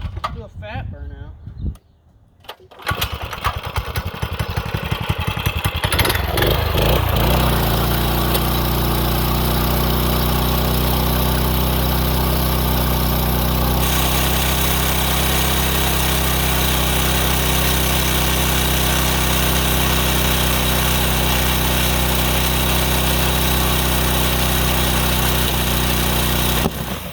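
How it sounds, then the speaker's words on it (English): A car engine idles loudly and roughly close by, building to a steady sustained roar as a burnout is set up, with voices talking over the noise at the start. "Do a fat burnout."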